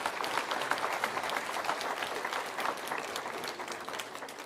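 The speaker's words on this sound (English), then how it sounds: "a big round of applause to the entire organizing committee" A conference audience at a startup event claps steadily for the organizing committee, a dense even applause from a crowd that fades slightly toward the end.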